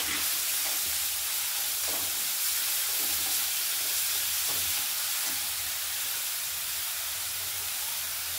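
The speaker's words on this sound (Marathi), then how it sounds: "आपल्याला हिरवी मिरची कच्ची नाही लागू म्हणून आपण थोडंसं परतून घेऊ।" Green chillies sautéing in a ladleful of oil in a home kitchen, a steady bright sizzle and hiss running continuously with a few faint stirring knocks, no talking.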